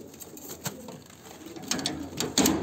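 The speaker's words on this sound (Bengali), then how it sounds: "টোটাল 10 পিস পায়রা আছে, 5টা মেল 5টা ফিমেল।" Ten pigeons kept in a cage coo softly, with a few brief calls and some faint rustling and shuffling over quiet background noise.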